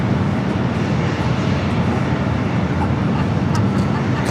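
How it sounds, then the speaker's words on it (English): Condor A330neo airliner going around at LAX, a loud sustained broadband jet engine roar heard outdoors, steady and powerful throughout. "Condor going around on the south."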